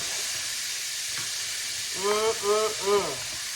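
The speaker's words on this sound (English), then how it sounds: "Getting that sauteed for a couple of minutes." Chicken sautés in Tuscan herb infused olive oil with a steady, even sizzle that runs the whole way through, while a voice speaks briefly over it near the end.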